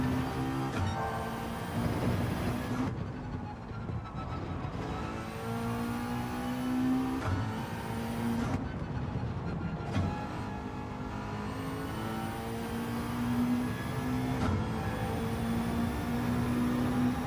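Bugatti Veyron in Gran Turismo 7 roars loudly and continuously, engine pitch rising through repeated upshifts with brief dips between gears.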